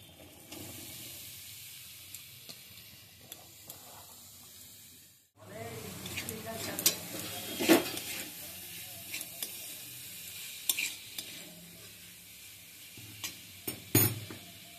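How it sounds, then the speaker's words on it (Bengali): Boiled jackfruit drops into a pan of cooked-down spices and is stirred over heat, giving a steady sizzle and hiss with scraping knocks, close by, after a brief quiet gap, with occasional talk underneath. "মশলাটা কষানো হয়ে গেছে, এবার আমি দিয়ে দিচ্ছি সিদ্ধ করা ইঁচড়"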